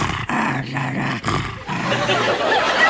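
A dog growls in a string of rough, voice-like bursts, close and loud, with short gaps between the phrases.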